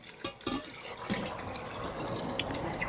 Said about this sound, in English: And then I'm just going to add the water.